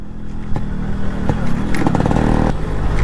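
A Yamaha RX motorcycle rides along a road, its two-stroke engine buzzing and popping loudly up close with uneven revving bursts.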